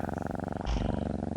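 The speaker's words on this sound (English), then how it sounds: "Cookie Cat is purring." A cat named Cookie Cat purrs in a steady, rhythmic rumble, loud and close, in The Long Dark survival game, with a brief brighter rustle midway.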